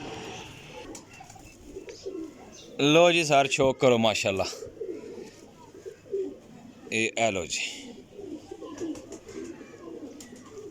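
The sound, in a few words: golden pigeons cooing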